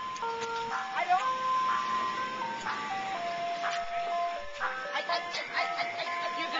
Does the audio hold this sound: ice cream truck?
yes